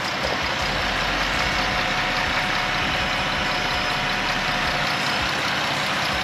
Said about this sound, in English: I'll let you hear the engine while it's running